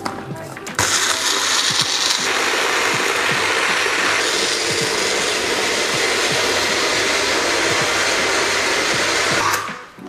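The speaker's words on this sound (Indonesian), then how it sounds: "Lalu kita akan blender." An electric blender grinds roasted coriander with oil and water into a fine spice paste: a loud, continuous whirring roar starts abruptly and runs steadily for about nine seconds before stopping.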